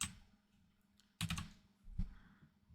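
Computer keyboard used while pasting code into the Arduino IDE: a few quiet scattered key clicks, then a sharp burst of keystrokes and a later thud, faint and close with no talk.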